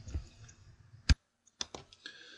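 A computer mouse clicks a few times close up in a quiet room, with one sharp click followed by a pair of quieter ones and some faint background sounds between them.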